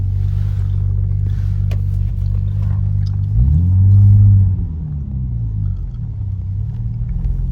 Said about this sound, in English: we're about to drive up to a hillock, hopefully to catch some trout